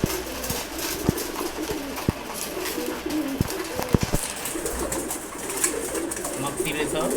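Several Chila pigeons coo continuously while feeding, with many sharp clicks and pecking taps scattered through a busy, fairly loud loft ambience.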